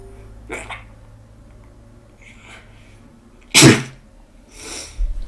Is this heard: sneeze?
yes